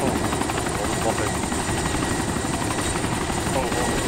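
A helicopter in the video game DayZ sends out a loud, continuous rotor chop and whine, close and unbroken, with someone talking over it.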